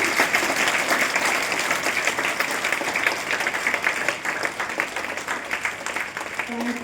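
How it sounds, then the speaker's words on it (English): Audience at a school Republic Day celebration gives a loud, sustained round of dense applause, steady throughout and gradually thinning near the end. "Let us give them a hearty round of applause."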